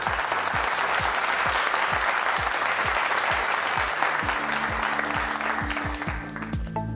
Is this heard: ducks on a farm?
no